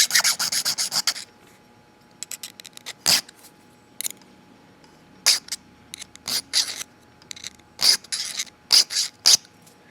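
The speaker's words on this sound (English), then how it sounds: "And start filing." A hand file rasps across a motorcycle key blank in short, repeated strokes that come in bursts, with pauses between the passes, loud and close.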